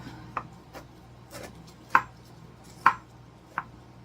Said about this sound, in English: let me get a knife because I want to make sure I cut into that part